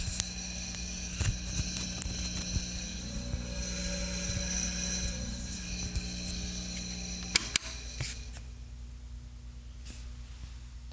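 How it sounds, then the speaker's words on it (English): The motor of a vintage wire recorder hums and whirs steadily at close range, then cuts off abruptly with a couple of mechanical clicks, leaving a faint residual hum. "You hear that motor spinning?"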